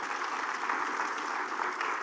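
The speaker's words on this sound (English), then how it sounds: "Can we just give them a round of applause?" Audience applause at a conference hall during the Tamil Nadu Global Investors Meet, a steady, dense wash of many hands clapping that holds at full strength throughout without talk.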